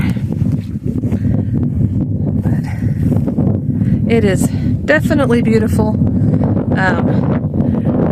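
Wind on an Appalachian Trail mountaintop produces a steady, low buffeting rumble against the microphone that lasts the whole time, under a person talking.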